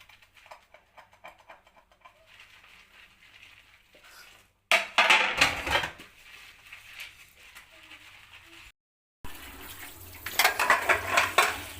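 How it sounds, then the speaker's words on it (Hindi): Dishes being washed with soap and water at home in an evening kitchen routine, with clattering pots, plates and cutlery and splashing water in bursts broken by short pauses, loudest in the later stretches. "सारे बर्तनों को मैं पहले साबुन लगा देती हूँ, फिर मैं सारे पानी से निकाल देती हूँ।"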